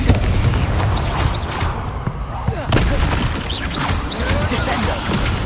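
Explosive booms and crashes from a fire spell in the Hogwarts Legacy video game during a fight with spiders, loud repeated blasts over rumbling game effects, with a voice calling out spells.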